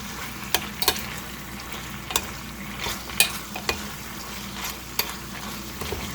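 Nasi lemak sauce in a pan is stirred and mixed over a low, steady sizzle, with sharp intermittent clicks of the spoon against the pan at irregular intervals.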